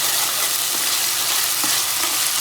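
Ginger sizzles steadily in hot oil in a pan along with whole cloves and cardamom pods, the base of a mutton liver curry; a continuous close crackle with faint stirring scrapes.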